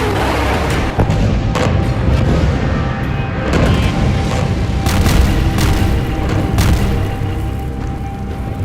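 Aerial bombing explosions over Gaza form a loud, dense, continuous roar of heavy booms and rumbling blasts that overlap without a break, with a few sharper impacts standing out.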